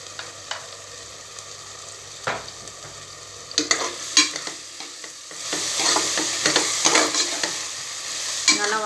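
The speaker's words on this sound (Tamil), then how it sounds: "நல்லா வதக்கி விட்டுக்கலாம்" Masala with turmeric, coriander powder, red chili powder and garam masala stirred and sautéed in a pan for chana biryani; sparse scrapes at first, then steady spatula scraping over a rising sizzle, close and without voices.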